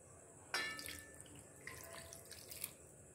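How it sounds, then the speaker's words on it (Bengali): Water splashes into a pan of fish curry being cooked, with a sudden pour followed by softer trickling and dripping, fairly faint. "এবার আমি জলটা দিয়ে দেবো"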